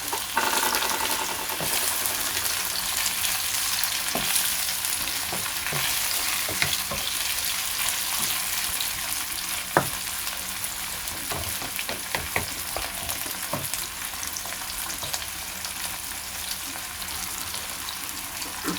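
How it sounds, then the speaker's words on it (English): Onion and chopped tomato fry in oil for a street-style egg bhurji gravy, giving a loud, even sizzle that carries on throughout, dotted with scattered spatula scrapes and taps. "So now I will add a tomato inside and we'll fry it again."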